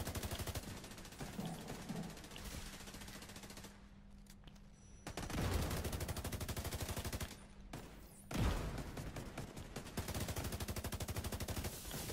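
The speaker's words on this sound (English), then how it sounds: "I got hit by the turret." Turret gunfire in The Division 2, rapid automatic bursts that rattle continuously with brief pauses and breaks between volleys, loud and close, with no talking over them.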